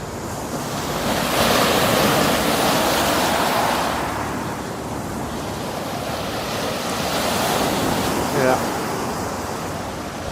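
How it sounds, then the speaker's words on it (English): Wash from a passing boat rolls onto the Thames foreshore, a broad surging rush of water swelling and fading in two slow waves, close and loud with wind buffeting the microphone. "Look at the waves that thing makes."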